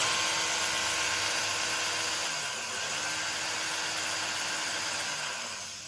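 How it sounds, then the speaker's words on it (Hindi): A repaired machine motor, fixed after a cut gear was replaced, runs steadily as it spins its blade, a continuous close whirring hum that holds level and eases off at the end. "अब आप देखेंगे इसका ब्लेड घूमेगा।"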